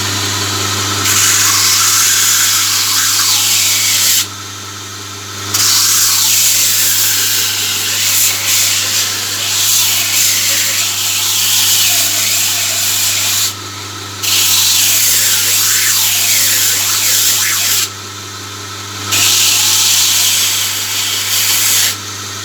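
Coarse sandpaper rubbing across a forged steel spear blade, a steady abrasive rasping that runs continuously with a few brief pauses between strokes, loud and close, over a constant low motor hum.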